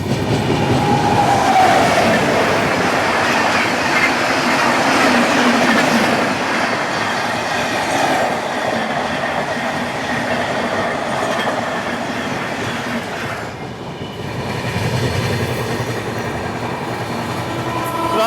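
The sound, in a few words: Tamil Nadu Superfast Express train passing on crossing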